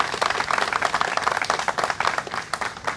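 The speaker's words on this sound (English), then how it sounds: "Give her a round of applause." Audience clapping at a press briefing in a museum of art, a dense spatter of hand claps sustained steadily at moderate loudness throughout, with no voices over it.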